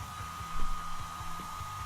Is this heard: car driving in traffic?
no